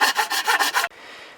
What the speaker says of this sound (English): Okay, we've got the antler cut down.